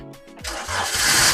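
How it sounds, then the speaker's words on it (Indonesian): The 1.3-litre engine of a manual 2021 Daihatsu Gran Max blind van cranks briefly and catches cleanly, settling into a steady idle up close. "Sekarang kita coba start mobil."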